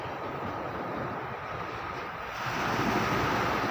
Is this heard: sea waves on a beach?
yes